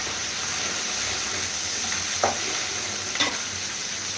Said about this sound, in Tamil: பச்சை மிளகா, கொத்தமல்லி, கருவேப்பிலை போட்டாச்சு.